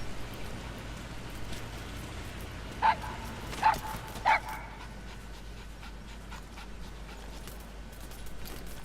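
A puppy in the video game Metal Gear Solid V: The Phantom Pain gives three short, sharp barks in quick succession, heard over a soft, steady rain-like hiss.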